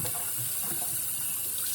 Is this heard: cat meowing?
no